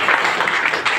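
An audience claps together in a dense, continuous burst of applause, loud and close, filling the whole short moment.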